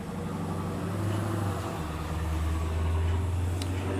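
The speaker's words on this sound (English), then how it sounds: "this car lives down the street, and he loves to gun it down our street. That Charger, did you hear that go by?" A Dodge Charger guns its engine along a residential street, giving a steady, loud low rumble that swells as it drives past, with no talking.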